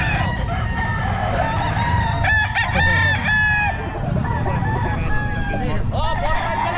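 A Sweater gamefowl rooster, eight months old, crows loudly and close in a busy pet market, its long harmonic calls overlapping with other roosters crowing and clucking while people's chatter hums in the background.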